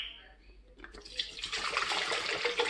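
Water running from a tap into a container for cleaning a very dirty electric grinder, a faint hiss that swells into a steady, close rushing flow after about a second.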